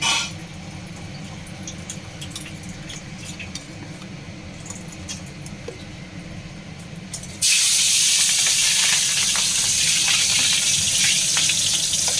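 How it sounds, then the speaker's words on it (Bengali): Fish pieces marinated in salt are dropped into hot oil, and after a quieter stretch of soft kitchen noise a loud, continuous crackling sizzle bursts in partway through and keeps going to the end. "এবার আমি মাছগুলোকে ভেজে নেব"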